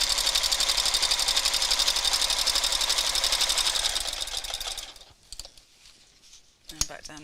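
A sewing machine top stitches in a fast, steady mechanical rattle for about five seconds, then stops, leaving scattered faint clicks and handling noises.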